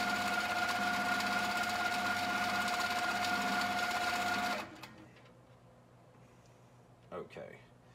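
A mid-arm quilting sewing machine stitches with a loud, steady, close mechanical whir, then stops abruptly about halfway through, leaving a quiet room with a few faint soft sounds near the end.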